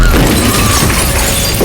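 Film scene of a gas tank flung from a fire and smashing into a houseboat, a loud sustained crash of shattering and breaking debris that fills the whole moment.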